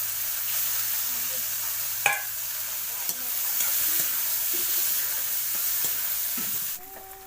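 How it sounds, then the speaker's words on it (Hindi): Chillies, garlic and tomato fry in a pan for Chhattisgarhi fara roti, giving a steady close sizzle with a few sharp stirring clicks and no talk. "मिर्चा लहसुन भुंजा के हमारा डाल देथन और टमाटर ला"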